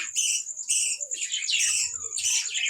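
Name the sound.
budgerigars (badri birds) chirping in colony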